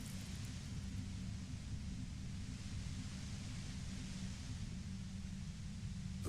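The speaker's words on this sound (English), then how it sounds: "The violet white noise becomes even more overwhelming closer to the compressor." Steady, dense broadband hiss with a heavy low rumble beside a compressor in the Disco Elysium video game, continuous and unchanging throughout with no voices.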